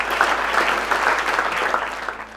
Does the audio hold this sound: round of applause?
yes